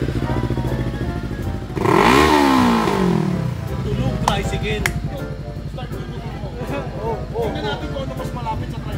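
A big-bike motorcycle engine revs loud and close during an exhaust check, a sharp throttle blip swelling over a steady idle, with people talking over it.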